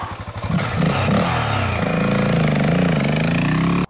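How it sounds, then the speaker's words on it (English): A 2023 XR650L motorcycle with a de-restricted, de-snorkeled side panel air intake starts with a few pulses, then settles into a loud, steady, throaty idle with a deep, uneven rumble, close by and alone. "I've always loved the sound of a de-restricted air intake."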